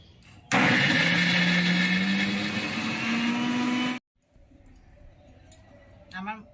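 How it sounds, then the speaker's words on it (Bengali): A mixer grinder grinds green peas for a kachori filling in one loud, close whirring burst of about three and a half seconds, its motor pitch climbing steadily, then stops, leaving quieter clatter and faint talk. "ময়দাটা ঢাকা দিয়ে রেখে আমি এখন এই মটরশুঁটিগুলি মিক্সিতে বেটে নেব"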